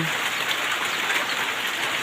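Heavy rain pours steadily outdoors during days of nonstop downpour, a dense even hiss of drops striking surfaces with no breaks or voices.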